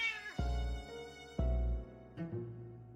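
Cats meow in the video game Persona 4 Golden, three loud, close, drawn-out calls one after another, each starting with a sharp onset and sliding down, with no talk over them.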